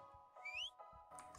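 A person whistles a short rising tune, the bright tone sliding upward over about a second, close and fairly clear above low background noise.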